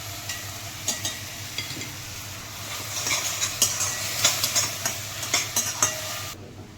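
Onions sizzle steadily in a pan, a close, even hiss broken by repeated light clinks and scrapes as a utensil stirs them, with no one talking.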